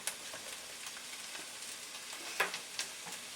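Vegetables sweat in a hot pan with a steady, close sizzle and frying crackle, punctuated by a few sharper pops and stirring scrapes.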